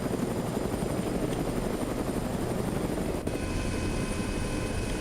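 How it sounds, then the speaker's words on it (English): A loud, steady helicopter engine and rotor drone heard from inside the cabin in the video game ArmA 3, droning on without a break. "The inside of the chopper sounds cool."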